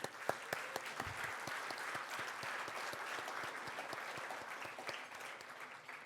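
Sustained applause from a large gala audience at a Los Angeles event, dense steady clapping with a few sharper individual claps standing out near the start, continuing throughout without pause.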